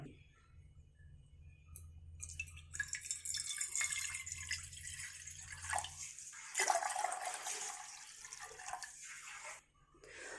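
Water poured into a saucepan on a kitchen stove, about two glasses' worth, making a soft splashing and trickling stream that runs for several seconds, quiet and close, then tapers off.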